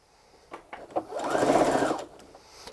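A sewing machine runs in one short burst of steady stitching through a gift wrap patchwork quilt block, close and fairly loud, preceded by a few soft fabric handling clicks.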